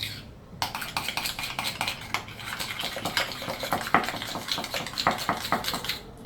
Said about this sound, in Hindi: इसको अच्छी तरह मिक्स करके